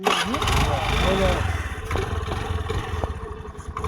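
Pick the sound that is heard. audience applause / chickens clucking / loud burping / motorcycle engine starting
motorcycle engine starting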